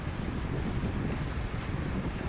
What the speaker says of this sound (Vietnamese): cái sóng gió đập vô bờ kè lớn không.